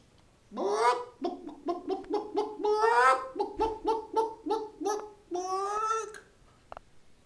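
Chicken clucking in a library, a close, rapid series of bright, pulsing clucks and cackles rising and falling for several seconds before trailing off into quiet.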